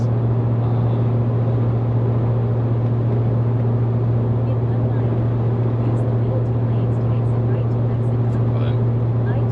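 A truck tows a small Lincoln car on a drive, with a steady low engine drone and road rumble running continuously throughout, loud and close with constant in-cab noise.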